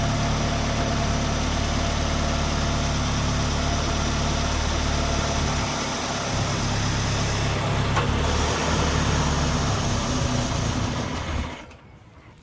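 A Citroen BX 16 TRS engine with a suspected fueling issue or misfire runs roughly with a loud, steady rumbling drone, then sputters and stalls near the end, leaving quiet; no one talks.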